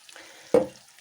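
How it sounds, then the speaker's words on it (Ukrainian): Vegetables hit a hot pan for stewing or frying, giving a short burst of sizzle and stirring that swells suddenly and then fades back to a quiet simmer. "Тушкуємо чи смажимо наші овочі разом."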